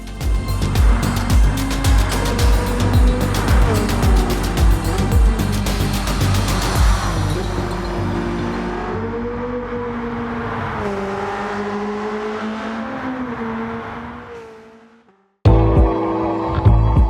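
A BAC Mono, a road-legal single-seater that drives like a Formula 3 race car, roars loudly with a rising, shifting engine note that fades away, followed by a brief abrupt burst of sound.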